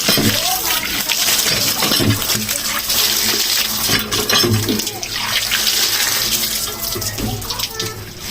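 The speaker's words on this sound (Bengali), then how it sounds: "টিউবওয়েল" Water gushing from a tubewell hand pump in a rural outdoor setting during fish washing, a steady loud splashing flow running throughout, with voices talking faintly in the background.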